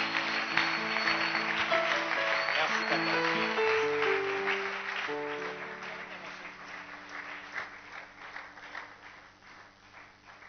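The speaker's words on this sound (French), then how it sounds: "nous acclamons très fort pour Jésus" A church congregation applauds loudly for Jesus, a dense wash of clapping over sustained keyboard music, steady at first and thinning toward the end.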